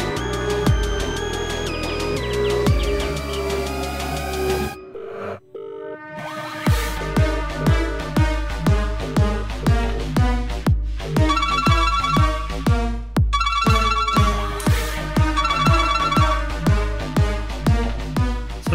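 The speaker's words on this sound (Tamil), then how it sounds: "நம்பர் டயல் பண்ணு." A phone on speaker rings after a number is dialed, playing a loud, repeating melodic ringtone with a steady pulsing rhythm after a brief gap.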